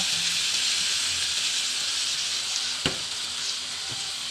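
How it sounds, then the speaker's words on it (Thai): Pork bones stir-frying in a hot pan, giving a loud, continuous sizzle and hiss broken by a couple of brief scraping knocks of the utensil. "ใส่ลงไปผัดเลยค่ะ หอมที่สุดแล้วค่ะตอนนี้พอเราผัดกระดูกหมูสุกแล้วนะทุกคน"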